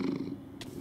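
A cat purrs in the Minecraft video game, a close, continuous low rumble over less than a second, with a brief higher sound near the end.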